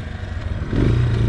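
An Italika DM 200 motorcycle runs while being ridden, a close, rough engine rumble with wind and clatter that swells louder and deeper partway through.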